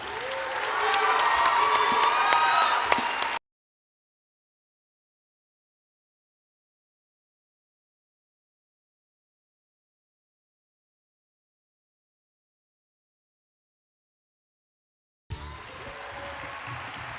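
Audience at the AZBio Awards cheering and applauding the Bioscience Educator of the Year honoree; loud clapping mixed with shouting voices opens, cuts to silence for a long stretch, then resumes more softly at the end.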